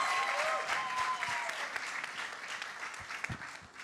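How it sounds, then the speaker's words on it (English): An audience applauds the panelists at the launch of a voting awareness campaign, dense clapping that starts strong and slowly thins out over about four seconds, with a faint tone ringing underneath at first. "round of applause?"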